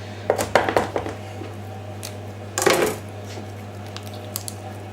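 Knife working into a raw turkey neck while butchering a Christmas turkey, giving a few close, soft clicks and knocks against a board, then a brief cluster of cutting taps, over a steady low hum.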